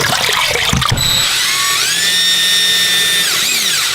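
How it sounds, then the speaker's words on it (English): A power drill with a 3/16-inch bit revs up into a loud, sustained high whine, its pitch shifting as it bites into a mounting spot for a fill valve bracket plate, after a brief clatter of handling at the start. "get in there with your drill for the 3/16 drill bit"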